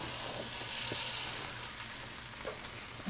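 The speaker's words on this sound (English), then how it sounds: "And let's get our Brussels sprouts down in our pan." Brussels sprouts and prosciutto frying in a pan over heat just above medium, giving a steady, moderately quiet sizzle with faint crackles throughout.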